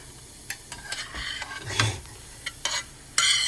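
Shrimp, egg whites, scallions and fresh ginger stirred in a hot pan for cauliflower shrimp, with close scraping strokes of the utensil over a steady sizzle, in short irregular bursts.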